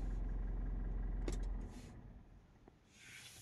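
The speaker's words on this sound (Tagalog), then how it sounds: "I-stop mo yung makina." A 2023 Mitsubishi Montero engine idling, then switched off: the low steady rumble cuts out around midway, leaving faint clicks and a quiet hiss.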